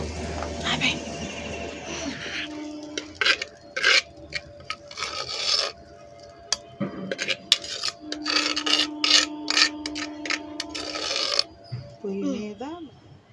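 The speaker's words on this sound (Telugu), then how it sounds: "ఇప్పుడైతే పచ్చడి రోల్ కాడ కట్టుకెళ్ళి నూరుకుందాం" Coriander and mint chutney ground by hand in a traditional stone grinder outdoors in a rooftop garden: rough, rhythmic rasping strokes of stone on stone, close and fairly loud, with a person talking between passes.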